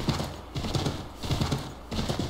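A horse's hooves clip-clop in Assassin's Creed III, a video game, in quick rhythmic groups of close, crisp thuds as the horse moves at a steady pace.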